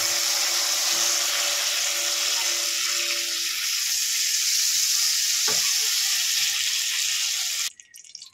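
Flat beans frying in oil in a wok, a loud, steady close-up sizzle with a low hum early on that cuts off abruptly near the end.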